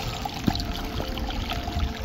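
Water from a natural source being poured outdoors near a waterfall, a short splashy pour with a brief louder splash early on, set against steady background rush and hiss.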